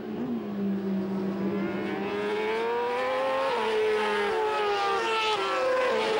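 Superbikes race on a track, with a Honda Tecma on Michelin tyres leading, engines screaming at high revs and rising and falling in pitch as the bikes pass, loud and continuous.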